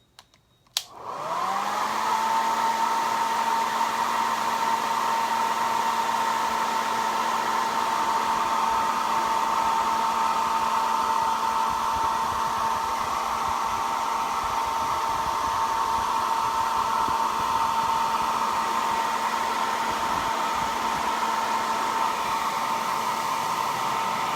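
A hair dryer switches on and blows steadily for over twenty seconds, a loud constant whirring drone with a stable whine, drying fresh paint on a thrifted item.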